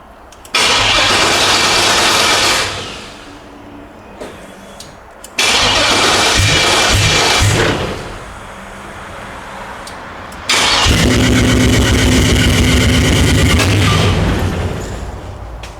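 An LS V8 swapped into an El Camino, freshly fitted with new spark plugs, cranks and fires up loudly, revving in two strong bursts before settling, then roaring again into a steady rumbling idle, with no talking.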